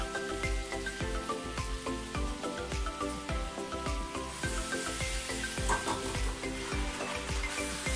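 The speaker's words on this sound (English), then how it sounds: "We're going to stir that up because we want basically all that sugar to be dissolved." Sauce with mirin, sugar and vinegar being stirred in a hot pan, a constant close sizzle and bubble with soft spoon scrapes throughout, and no talking.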